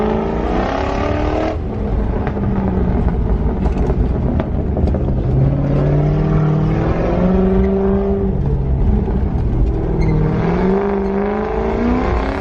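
A V8 Land Rover Discovery 4WD cruises back out along a rough track near Hanmer, its engine droning steadily and loud with shifting revs and wind buffeting throughout, no one speaking.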